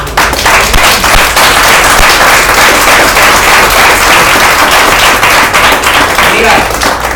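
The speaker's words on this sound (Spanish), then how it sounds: "Dale un aplauso a Dios." A church congregation claps together in sustained, dense applause, loud and steady for several seconds with no pauses.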